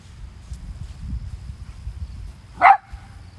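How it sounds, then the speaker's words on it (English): A single short, sharp dog bark at mid distance during a loose-leash walking session, standing out over steady low background rumble, then quiet. "Got that little bark was arousing for him"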